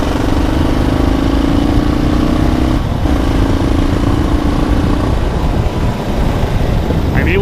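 A motorcycle engine runs steadily and loudly up close with a constant drone, briefly dipping once and then continuing.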